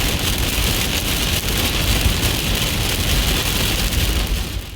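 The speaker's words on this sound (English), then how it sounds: "a rainy start to your Thursday" Steady rain falls on a spring morning, a dense, even hiss of drops hitting surfaces that carries on throughout without thunder or voices.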